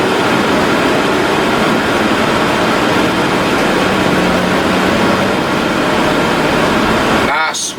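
A 2006 American Tradition 42R Class A diesel motorhome with a 400 Cat engine, tag axle and Spartan chassis pulls up a hill, a loud steady engine roar and road drone from inside the cab that cuts off sharply near the end.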